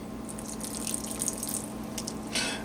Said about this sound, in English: I'm going to add a little bit of hot water to it